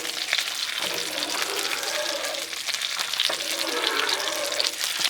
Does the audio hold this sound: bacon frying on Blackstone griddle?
yes